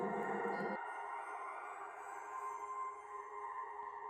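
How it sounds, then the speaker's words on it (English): A shimmering, synth-like sustained tone from a reverb-processed bass guitar, bright airy overtones hovering above after a lower note cuts off early. "almost sounds synth-like, even though it is processed from a bass guitar"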